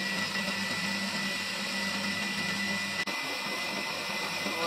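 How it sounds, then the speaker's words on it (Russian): Stand mixer whisking egg whites for a sponge cake, a steady loud motor whir with an even churning texture that runs unbroken from start to finish. "Чашу устанавливаю на миксер и взбиваю."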